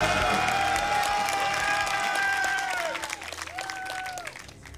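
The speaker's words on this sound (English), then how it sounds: "we still have the crowd out cheering away" A crowd at a StarCraft II esports group-stage match in Katowice cheers and claps in the background, a steady wash of noise under bright, gliding electronic game tones.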